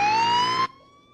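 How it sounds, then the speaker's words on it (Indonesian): An ambulance siren wails loud and close in a sustained rising tone, then cuts off abruptly, leaving quiet background. "Oh, lihat, sebuah ambulan."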